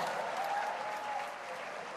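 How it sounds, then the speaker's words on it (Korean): An audience applauds children after a Christmas performance, a steady, dense clapping that holds for the whole stretch at moderate level, with no one speaking. "친구들에게 큰 박수 보내주시길 바랍니다"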